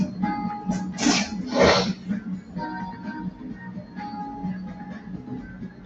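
Two quick sneezes burst out close by, the second louder, over a quiet room with faint background hum.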